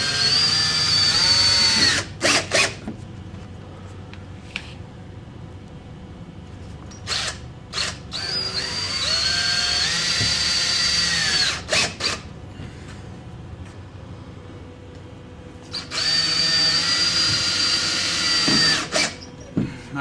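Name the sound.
power drill driving drywall anchors into pre-drilled holes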